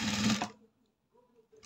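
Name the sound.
sewing machine stitching blouse neckline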